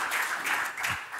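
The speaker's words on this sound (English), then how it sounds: "So big round of applause, please." Audience applause at a hospitality industry conference as a speaker is welcomed on stage, a brief burst of dense clapping lasting about a second, fairly close and with no talk over it.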